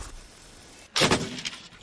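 A single sharp gunshot cracks loudly after a near-silent lead-in, followed by a short rumbling echo that fades out.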